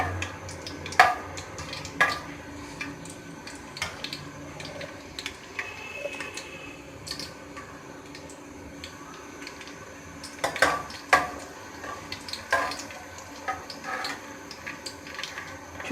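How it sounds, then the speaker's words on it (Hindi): Cumin and fenugreek seeds frying over a medium flame in a pan, a quiet crackle and sizzle spread throughout, with scattered clinks and scrapes of a spoon or utensil against the pan, sharpest around the middle and end. "इन्हें हम हल्का सा फ्राई कर लेंगे।"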